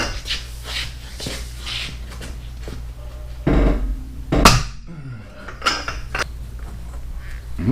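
A breaker bar fitted with a 1.25 inch 16-point socket and a pipe extension loosens the front hub nut on a 2003 Matrix, producing scattered metallic clicks and clunks with a sharp crack as the nut breaks free.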